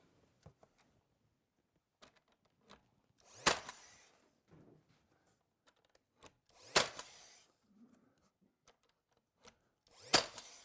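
Half-inch quarter round molding strips are fixed to the doors of a Swedish corner cabinet: three loud sharp bursts with short tails, spaced a few seconds apart, between quiet scattered taps and handling noise.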